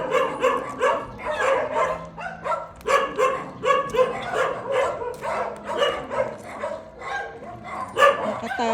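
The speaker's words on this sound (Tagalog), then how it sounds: "Daming aso." Many dogs bark in a rapid, overlapping chorus of yaps and bow-wows, loud and fairly close, repeating steadily throughout in La Trinidad near Baguio City.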